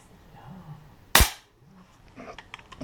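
One sharp, loud crack from a Beeman P17 air pistol firing Gamo Match pellets, close by and quickly fading, with soft mechanical handling noises before and after.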